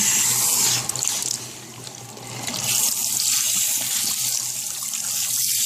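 Running tap water splashes into a salon shampoo bowl, steady and close, with the flow shifting as a wig is rinsed under it.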